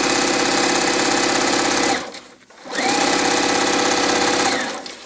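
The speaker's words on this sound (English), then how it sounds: "I'm going to, this time, start at the edge and sew all the way through." Sewing machine stitching a quilt seam on a bullseye square, running loud and close in two steady bursts with a brief pause between them; no talking.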